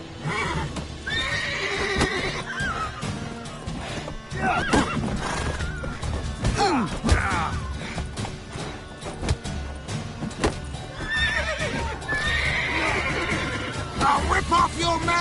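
Horses in The Witcher 3 video game neigh and whinny loudly several times, with clip-clopping hooves and combat clatter, and in-game voices talking between the calls.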